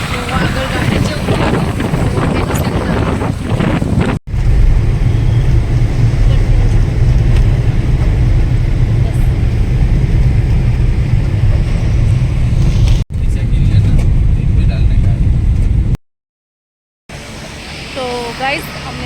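Car on the road from Thane toward Lonavala, a steady rumble of driving with heavy wind buffeting the microphone and a voice speaking over it at the start, broken by brief cuts and a short silence near the end.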